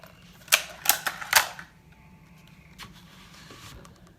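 A Hatsan Alpha Youth .177 air rifle is cocked, giving a run of four or five sharp metallic clicks and ratchets close up, followed by fainter mechanical clunks and a soft slide as the action settles.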